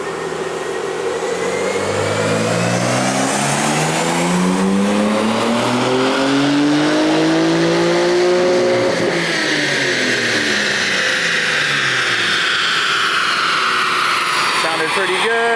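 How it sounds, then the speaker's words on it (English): A car engine revs hard on a dyno and climbs steadily in pitch under load, then drops off and winds down; loud and close, with a continuous roaring drone. Tuned with JB4 map 6 on an E30 fuel mix. "ready to dyno the car"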